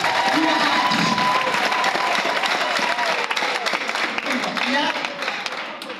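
A church congregation bursts into loud, sustained applause with cheering and shouting voices, a thick wall of clapping and crowd noise that holds steady and eases slightly near the end.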